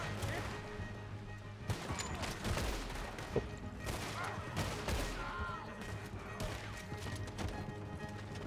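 Gunshots ring out in the Western video game Red Dead Redemption 2, scattered sharp cracks amid hoofbeats and game ambience, with someone talking over parts of it.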